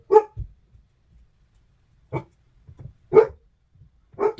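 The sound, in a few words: dog barking excitedly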